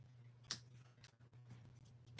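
Scissors trim card paper in a few crisp close snips spaced over a quiet, faintly humming room, with a sharper snip at the end.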